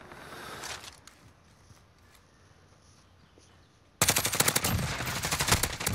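Grau 5.56 rifle fire in a first-person shooter, a sudden loud burst of rapid automatic shots after several quiet seconds with faint game ambience.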